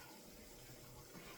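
Water poured from a cup into a roux in a pan while cooking, a steady close rushing splash that runs for the whole short stretch with no talk over it.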